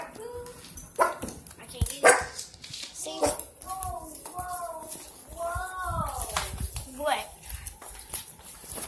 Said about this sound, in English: This is the dog.